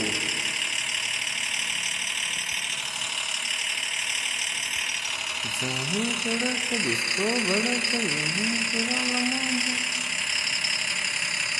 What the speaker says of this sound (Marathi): आपली लाल परी एकदम अजून जोरात ताकद घेऊन वरी चढ चढत आहे